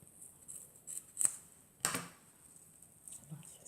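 Scissors snip through string while tying a craft bundle, two crisp close cuts standing out against a quiet background with no talk.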